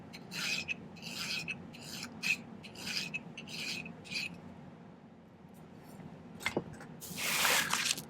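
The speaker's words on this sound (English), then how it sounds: "We'll just file that nice and flat." A metal hand file rasps a silver ring flat in a silversmith's workshop with about seven close, rhythmic strokes. After a quiet pause, a brief, louder scraping burst follows.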